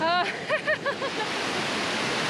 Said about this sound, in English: I don't know how much you can hear me over the waterfall